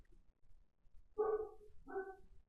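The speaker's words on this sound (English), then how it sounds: "sorry for the barking if you can hear that." A dog barks indoors, two short, muffled barks about a second apart, heard faint and from some distance in an otherwise quiet room.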